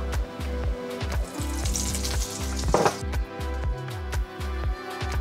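Butter and oil sizzling in a frying pan over medium heat, close by, with a steady crackle punctuated by regular rhythmic clunks of cookware or stirring.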